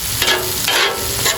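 Seasoning stirred on a hot sizzling griddle, a steady close frying hiss with soft scraping bursts of mixing that come and go.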